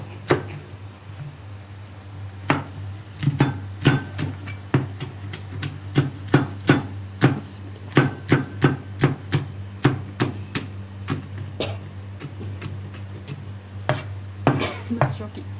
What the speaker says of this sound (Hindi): अब हम अपनी मिर्चें भी काट लेते हैं। ये 1 लाल और 2 हरी।